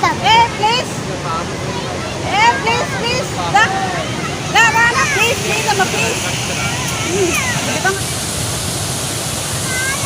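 A waterfall in Mulugu district, Telangana, roars steadily as a constant wash of rushing water, with people chatting and calling out over it nearby.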